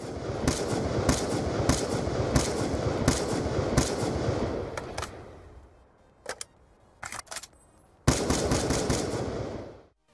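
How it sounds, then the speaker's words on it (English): XPR-50 sniper rifle firing in Call of Duty Black Ops 2, a run of loud, sharp reports at a steady rhythm, then a quieter stretch with a few scattered cracks before another loud burst. "it is the XPR-50, the sniper rifle"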